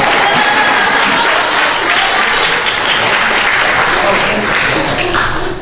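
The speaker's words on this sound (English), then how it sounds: "You can clap." Audience at a youth talent show applauding loudly and steadily, a dense wash of clapping that holds for several seconds without a break.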